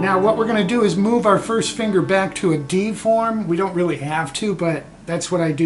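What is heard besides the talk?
No everyday noise stands out behind the speech.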